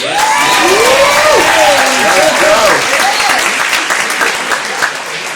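Loud audience applause fills the clip, with cheering voices rising over steady clapping that tapers slightly toward the end.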